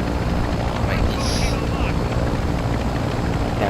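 Helicopter in Call of Duty: Modern Warfare II, a loud steady rotor drone with wind-like rumble throughout a few seconds, as players talk over it.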